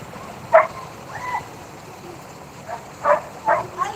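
Short dog-like yelps and whimpers leaking through a participant's open microphone in an online class session, a few sharp bursts at the start and a cluster near the end, with faint voices underneath.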